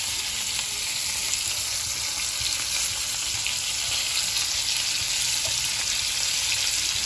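Four pieces of bangda mackerel frying in a little oil, a dense, even, close crackling sizzle that holds steady throughout with no voices.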